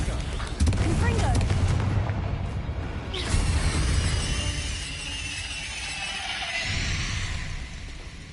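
Bombarda and Confringo explosion spells in the Hogwarts Legacy video game, a string of loud booming blasts and crackling bursts over rumbling battle noise.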